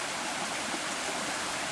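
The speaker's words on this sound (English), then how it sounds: "It's a beautiful babbling brook." A babbling brook runs steadily in a continuous broadband wash of flowing water, even and unbroken, with no voices over it.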